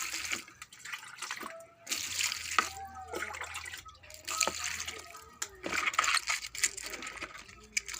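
Chopped cabbage being washed under running water, a faucet stream splashing and trickling with intermittent sloshing, while a person talks over it.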